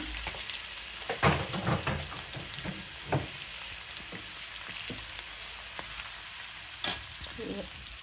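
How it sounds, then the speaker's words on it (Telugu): Spices tempering in hot oil for a drumstick and brinjal curry, with a continuous close sizzle and crackle plus scattered stirring knocks and clinks. "దోరగా వేగాలి ఫ్రెండ్స్. ఇది తాలింపు."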